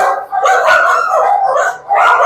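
Dogs barking and yelping nonstop at an animal adoption shelter, a loud, dense chorus of many voices that echoes and overlaps with no break.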